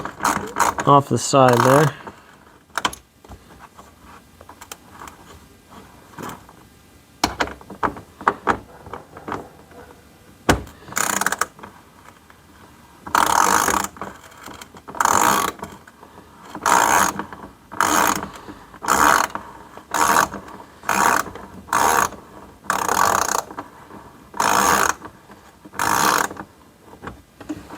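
A ratchet wrench backs out a 10 mm screw during an LED light installation, giving bursts of sharp clicking pawl sounds in repeated strokes, close and loud, with brief talking between them.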